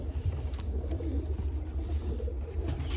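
Pigeons coo on a pigeon farm, a steady murmur of low throaty calls from a flock, fairly close and continuous with no talking.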